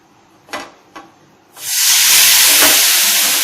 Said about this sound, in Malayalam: അപ്പൊ ഞാൻ മാവ് ഇതിലേക്ക് ഒഴിച്ചു കൊടുക്കുകയാണ്